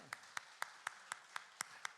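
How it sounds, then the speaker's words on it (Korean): During a Sunday church service, a congregation claps for an engaged couple in a steady, even rhythm of about four claps per second, faint and distant, with no talk over it. "우리 두 사람에게 우리 축복의 박수하도록 하겠습니다"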